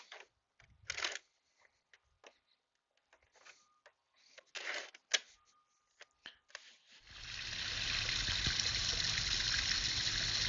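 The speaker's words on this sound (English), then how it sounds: "here's the waterfall with everything going" A Danner pond waterfall and filter pump start up after scattered clicks and handling noises, giving way to a steady, continuous rush of falling, trickling water that fills the last few seconds.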